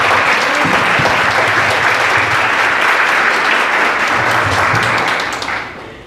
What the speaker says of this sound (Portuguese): eu quero pedir uma salva de palmas para as instituições